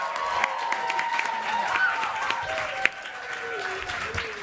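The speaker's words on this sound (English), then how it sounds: "if you could all give a round of applause to both sets of candidates" An audience applauds candidates at a student election question time, a steady, dense wash of clapping that carries on throughout, with a few brighter claps standing out.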